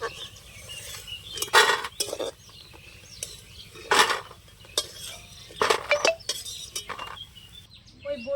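Metal utensil repeatedly scraping and clinking against a pan in irregular bursts over a faint background sizzle, as lentil dumplings fry in oil.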